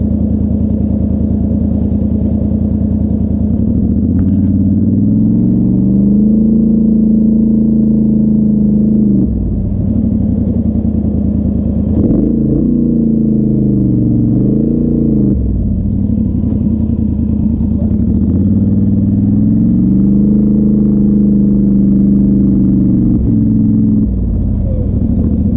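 An off-road vehicle's engine drones loud and close on Bundy Hill, rising and falling in pitch as it revs, slows and drives on while turning around, with rumbling and clatter from the rough ground.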